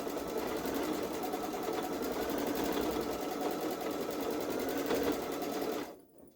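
A Babylock Solaris Vision quilting machine stitches an edge-to-edge Halloween gnome quilt with a steady, close, continuous whirring hum that holds evenly and then cuts off just before the end.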